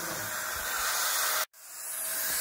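Continuous close spray-can hiss as black anti-rust paint is sprayed onto a truck chassis, steady and loud, with one brief break in the middle before the spray resumes.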